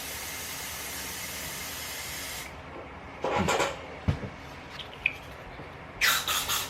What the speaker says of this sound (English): that's exactly how I spray my acetone all over the studio